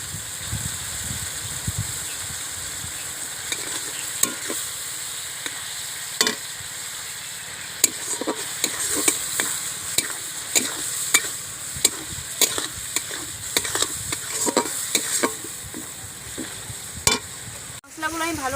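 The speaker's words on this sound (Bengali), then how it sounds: "মশলাগুলো আমি ভালো করে কষিয়ে নিয়েছি" Spice paste with chili powder and a splash of water fries for crab curry while a spoon scrapes and stirs it around the pan in irregular repeated strokes over a constant low sizzle.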